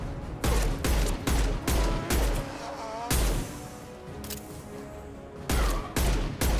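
Gunfire in the sci-fi shooter Mass Effect, loud close bursts of rapid shots with booming low thuds, in several clusters separated by short pauses.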